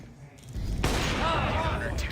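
Rapid bursts of gunfire from Counter-Strike 2, loud and close, under an excited voice.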